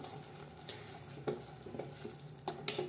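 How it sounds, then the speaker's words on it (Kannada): Egg curry masala sizzles and frys in a pan while a spoon stirs it, giving soft scraping taps over a low, steady crackle; quiet and close, with no talking. "ಚೆನ್ನಾಗಿ ಇದನ್ನು ಕೈಯಾಡಿಸ್ತಾ ಬನ್ನಿ"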